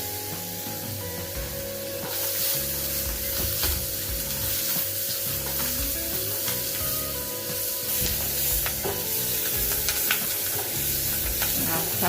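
Chopped onion frying in melted butter in a pan, giving a continuous bright sizzle that swells after the first couple of seconds and carries steadily under background music, with small stirring clatters.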